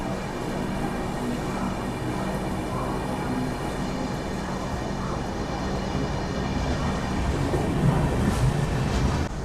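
Charminar SF Express passenger train rolls along with a steady, loud rumble and rattle of wheels and carriages that continues throughout without talk.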